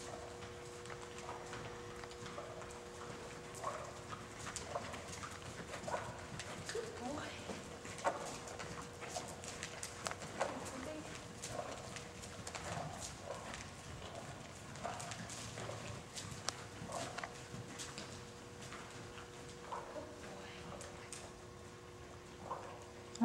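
Steady clip-clop of horse hooves walking at an even pace, with a faint background hum and occasional voices nearby.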